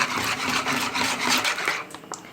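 Food, sausage added to eggs, is stirred and scraped around in a frying pan, a steady rustling, clattering texture for a couple of seconds, close and fairly loud, with no talking.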